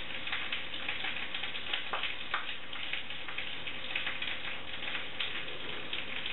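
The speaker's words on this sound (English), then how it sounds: "I'm just going to take them in my hands and squeeze them and let that juice run out" Juice squeezed by hand from orange slices runs and drips, a faint, steady wet patter with scattered tiny splashes heard close up.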